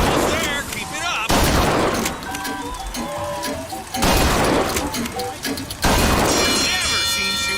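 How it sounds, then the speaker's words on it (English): Gunfire at a shooting gallery in BioShock Infinite, with bursts of rapid shots and sharp impacts in several loud waves, mixed with game voices and music. "Never seen shooting like that."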